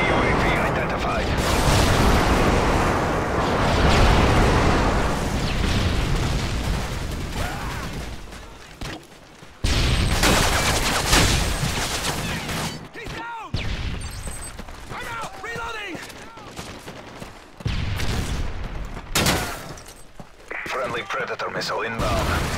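Airstrike explosions and gunfire in a Call of Duty: Modern Warfare 3 multiplayer match, with dense rumbling blasts and rattling fire through most of the stretch and brief pauses, loud and close, with game voices calling out over it.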